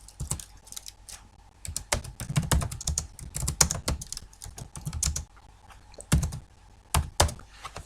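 Rapid clattering keystrokes on a computer keyboard, close and distinct, coming in irregular bursts with brief pauses, heavier clusters near the middle and a few isolated taps toward the end, no voices.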